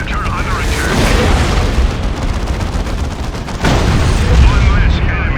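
Heavy weapon fire from a Predator Annihilator tank's lascannons in the Warhammer 40K Dawn of War II Chaos Rising battle, with continuous booming blasts and rumbling combat noise that grows louder midway, under a dense battlefield din.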